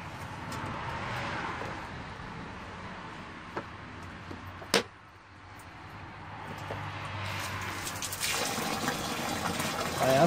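Hot antifreeze coolant drains from a Hyundai Accent Era during a coolant change, a continuous watery pour and splash with a sharp knock midway and a louder rush near the end.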